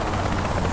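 A helicopter in Saints Row: The Third gives a steady, close rotor drone that fills the whole brief moment with no pauses.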